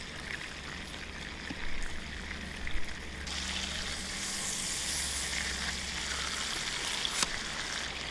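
Bread fries outdoors in a pan alongside crispy chicken, giving a steady close sizzle that grows fuller partway through, with a few brief clinks and no talking.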